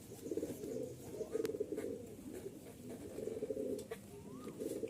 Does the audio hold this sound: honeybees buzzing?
no